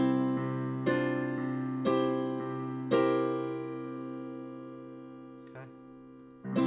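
Piano chords from a song with a higher C bass note struck between them, a few sustained chords decaying slowly, soft and alone.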